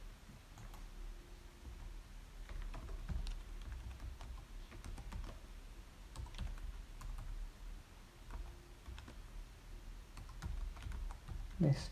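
Steady typing on a computer keyboard, a run of light, quick clicks with brief pauses, fairly close and moderately quiet over a low background hum.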